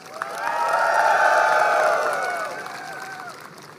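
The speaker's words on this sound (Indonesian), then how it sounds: "Tepuk tangan." A crowd at a Dayak customary gathering erupts in a short burst of cheering and clapping, with rising shouted voices swelling then fading over a few seconds.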